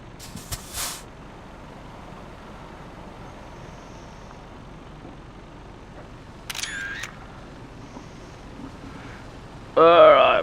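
Camera shutter clicks in the Euro Truck Simulator video game, a few sharp isolated snaps spaced apart over a low steady ambient hum, with the last burst louder and fuller.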